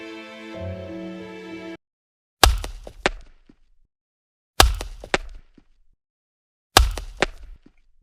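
A woodcutter chops wood in a forest: after a brief musical tone, three sharp, loud axe strikes land at a steady interval, each followed by a few smaller knocks and quick decay.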